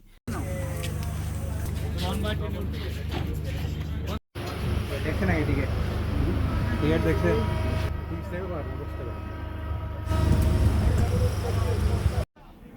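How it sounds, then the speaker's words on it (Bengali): Passenger train running on the tracks through rural countryside, a steady low rumble heard from inside the carriage with a murmur of voices, broken by two brief dropouts. "পথে আরও কিছু ছোট নদী, খাল আর গ্রামীণ জনপদের মধ্য দিয়ে ট্রেনটি ছুটে চলল"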